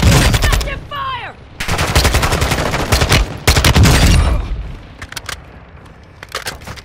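Rapid bursts of automatic gunfire from the battle royale game Call of Duty Warzone, loud and close, with repeated volleys and short pauses between them, plus a brief whistling sweep early on.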